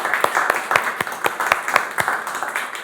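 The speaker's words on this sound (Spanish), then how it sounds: "Un aplauso." Applause at a church meeting welcoming a guest, a small group clapping loosely with a few sharp, distinct claps standing out, close and fairly loud.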